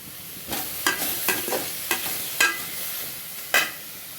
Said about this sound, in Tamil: முள்ளங்கி நல்லா எண்ணெயில் வதக்கி எடுத்துக்கணும்